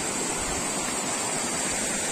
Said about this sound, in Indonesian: air terjun Ambon Suri